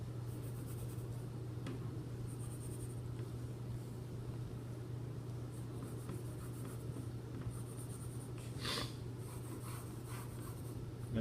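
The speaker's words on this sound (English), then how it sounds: "so I'm going to draw those in." Pencil drawing lines while sketching a box, faint scratchy strokes on paper repeating close by over a steady low hum.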